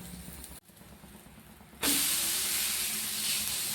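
Dosa with ghee on a hot pan, just flipped: a soft hiss first, then a sudden loud, bright, steady sizzle that keeps going, close up, with no talking.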